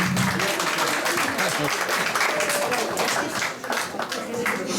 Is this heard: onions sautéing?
no